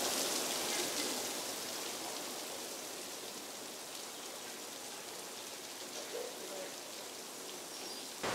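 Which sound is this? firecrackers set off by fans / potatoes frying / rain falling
rain falling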